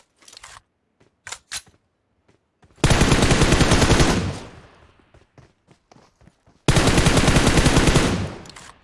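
Gunfire in a mobile shooter game, two long, loud bursts of rapid automatic fire separated by quiet stretches, with scattered clicks and footsteps before and between the bursts.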